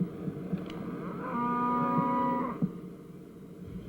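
A single long, low moo from cattle rings out during an autumn cattle roundup in the Flint Hills, fairly close and clear over a soft outdoor background, with no talking.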